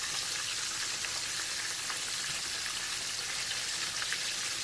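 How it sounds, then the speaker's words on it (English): Breaded butterfly shrimp fry in hot oil with a dense, steady sizzle and crackle like light rain, close and continuous, with no talking. "And then just fry until golden brown."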